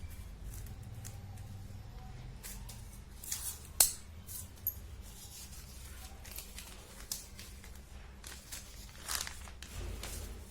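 Scissors snip a shape from material for a gomukhi prayer-bead bag, giving quiet, close, irregular clicks and cuts against faint background noise.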